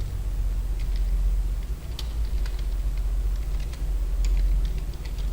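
Students in an Excel class type on a computer keyboard, producing light, irregular key clicks in short bursts over a constant low room hum.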